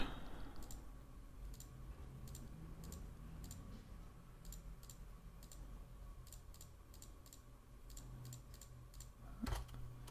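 Keyboard taps and mouse clicks at a computer running Blender, coming in quick bursts of small sharp clicks with short pauses between, close and quiet over a low room hum.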